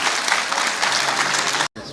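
Audience applause at an international Urdu conference at the Arts Council of Pakistan, a dense sustained roar of clapping that cuts off abruptly near the end.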